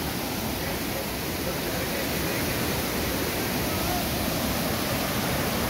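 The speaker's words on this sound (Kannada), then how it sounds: "So this is Abbey falls." Abbey Falls waterfall pours in a steady, dense roar of rushing water, loud and continuous throughout with no pauses and no voices over it.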